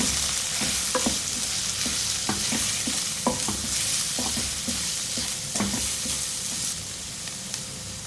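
Samosa filling is stirred with red chilli powder, chaat masala and amchur, and a spoon scrapes and taps the pan in an irregular rhythm over a continuous sizzle.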